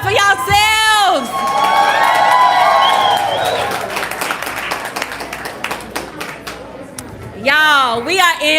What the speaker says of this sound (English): Y'all clap it up for yourselves.